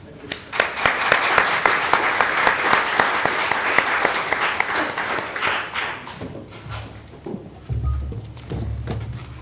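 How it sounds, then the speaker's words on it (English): Applause at a formal governance presentation greets an IOC member taking the stage, brisk rhythmic clapping that fades after about six seconds, followed by low rumbling room noise. "Please applaud Mr. Dibós."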